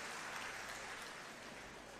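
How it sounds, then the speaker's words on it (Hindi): Crowd at a political rally applauding steadily, a dense wash of clapping that stays level and fairly quiet throughout, with no voices over it. "एक बार जोरदार तालियां इनके साहस और पराक्रम के लिए बजा दीजिए।"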